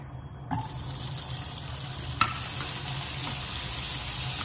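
Butter melts and sizzles in a pan while mushrooms are stir-fried, a steady hiss and crackle that swells after a soft clatter near the start and keeps going with a sharper knock midway.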